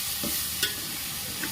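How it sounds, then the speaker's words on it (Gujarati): A spoon stirs a spice mix of turmeric, chilli and garam masala in a hot pan. A short close scrape comes over a soft sizzle. "આપણે બધું સારી રીતે મિક્સ કરી લેવાનું છે."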